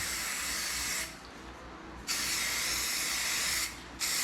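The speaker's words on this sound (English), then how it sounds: "Spray across the top." Aerosol spray paint hissing onto a Sportster motorcycle fuel tank in two long steady bursts, close and loud, with a short pause between them and a brief break near the end.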